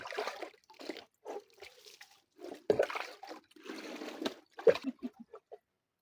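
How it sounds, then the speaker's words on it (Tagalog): Water splashing as people bathe at an outdoor well, a series of nearby splashes and pours in irregular bursts, separated by short quiet gaps. "Araw-araw kami dito naliligo."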